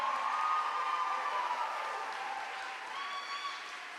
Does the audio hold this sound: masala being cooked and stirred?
no